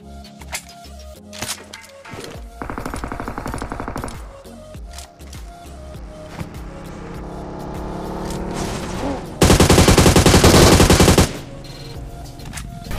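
Gunfire rattles through a mobile battle royale match on a phone, with bursts of rapid automatic fire, engine-like drones, and one especially loud, dense volley near the end, all close and punchy.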